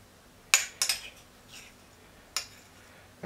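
Spoon mixing mustard into a mayonnaise-style sauce for steak tartare in a bowl, a few sharp metallic clinks and soft scraping strokes spaced apart in a quiet room.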